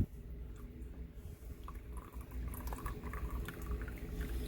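Tea poured quickly from an affordable Sea Wave gongfu teapot, a steady liquid stream running for several seconds with a faint bubbling texture, close and fairly quiet.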